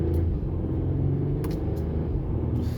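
A 2021 Mercedes E450 4MATIC upshifts while driving, a steady low engine and road rumble from inside the cabin with slight dips in tone at the gear changes, no talk.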